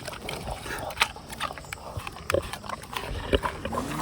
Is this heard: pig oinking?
yes